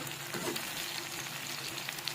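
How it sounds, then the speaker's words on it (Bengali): Potato strips for French fries frying in oil, giving a dense, steady sizzle close up with a faint stir partway through. "এটাকে এখন সুন্দর করে মচমচ করে ভাজবো"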